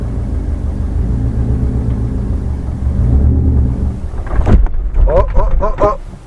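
Subaru STI fitted with a stage 4 clutch, pulling away in second gear: a low, steady engine rumble lugs along, then chugs and cuts out abruptly, followed by voices talking.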